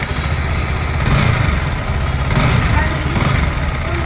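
A Yamaha R15 version 4 motorcycle sits idling close by, its engine a steady low rumble with slight swells in level, running on without pause.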